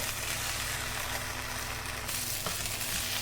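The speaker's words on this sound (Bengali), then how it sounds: "এখন চালটা কিছুক্ষণ ভেজে নিব।" Polao rice grains sizzle and crackle steadily in a hot pan, a close, continuous frying hiss with a brief stirring scrape midway.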